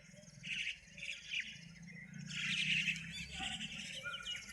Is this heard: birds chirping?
yes